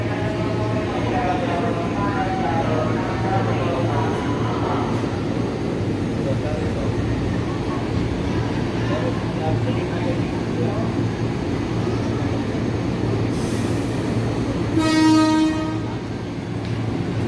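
Commuter train arriving at Tanah Abang station: a loud, steady rumble fills the platform, with a brief horn-like tone near the end, while an announcer talks over it.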